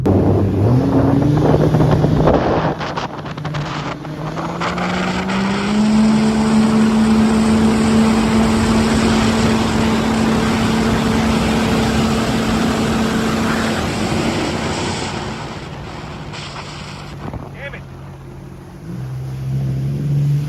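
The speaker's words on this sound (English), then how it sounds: "I'm going to do a couple more laps and see if I can do a top speed" A Sea-Doo 325 personal watercraft runs flat out at top speed, its engine holding a loud, steady high drone near the microphone with wind buffeting throughout and the pitch easing off toward the end.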